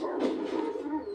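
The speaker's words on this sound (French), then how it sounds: "Oh, le chien!" Dog in the video game Remnant giving a short, moderately loud whimpering whine that lasts about a second, with no talk over it.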